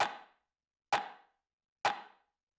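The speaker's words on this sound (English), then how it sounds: "Next thing we got here is the rim shot" A lo-fi techno rim shot sample hits three times at an even, slow pace, each a sharp dry crack with a short decay, isolated against silence.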